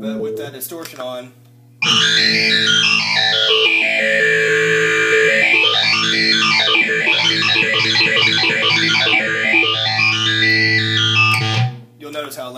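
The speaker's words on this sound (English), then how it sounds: "But with that distortion on," A Casio PB-1000 computer's tone played through a Boss distortion pedal, heavily distorted and fuzzy, swoops up and down in pitch, loud and saturated, after a brief quieter passage, then cuts off abruptly.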